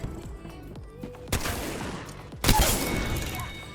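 Gunfire in a squad-based shooter video game comes in two loud, sharp volleys, the second one heavier and followed by a sustained rattle of continued shooting.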